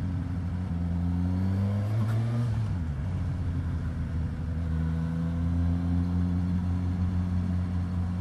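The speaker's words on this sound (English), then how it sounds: "just a little bit of kind of traffic riding, just to show how this bike goes." A Suzuki Katana motorcycle rides through traffic, its engine droning steadily with audible pitch shifts as it changes speed and a brief rise in revs partway through, heard close over wind and road rumble, with no talking.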